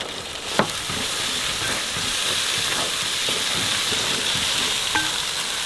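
Tomatoes tipped into ginger-garlic frying hard in a pot for chicken vadi biryani, giving a loud steady sizzle and hiss throughout with a couple of small knocks near the start, no talk.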